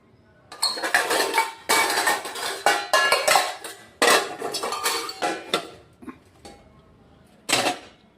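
Steel utensils set one after another into a dish rack, making a run of loud, close metallic clanks and rattles in irregular bursts with short pauses, the last clatter coming after a brief gap.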